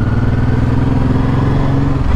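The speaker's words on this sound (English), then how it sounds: "it's not the smoothest of engines" A Honda Deauville motorcycle with shaft drive runs its engine with a steady, loud, low mechanical drone and rough throb, close up and constant throughout, no voices.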